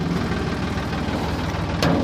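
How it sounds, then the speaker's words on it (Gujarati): A tractor engine idles and rumbles steadily nearby at a farm where a cow is calving, producing a continuous low, throbbing drone with a brief brighter burst near the end. "આ આવી ગયું ટ્રેક્ટર"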